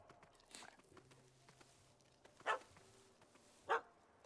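A dog in the video game The Witcher 3: Hearts of Stone barks twice, short sharp barks spaced about a second apart, rising over a quiet game ambience.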